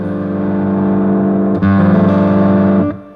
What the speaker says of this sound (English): So if I've got distortion on channel 1